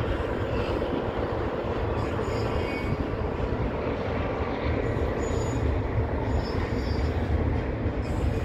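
A Union Pacific freight train rumbles past nearby at Cajon Creek Bridge near Old Cajon Station, a loud, continuous roar of rolling wheels and clattering cars without pause.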